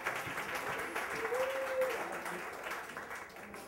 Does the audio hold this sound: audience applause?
yes